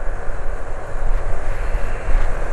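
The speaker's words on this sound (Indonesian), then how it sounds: "Untuk kecepatan sekitar segini nih, kecepatan 60, motor bebek itu bisa gigi tinggi, bisa gigi rendah" A motorcycle engine drones steadily at about 60 km/h, a loud, continuous, close hum mixed with wind rush and no talking.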